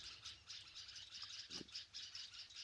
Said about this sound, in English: there's a bunch of birds making sounds today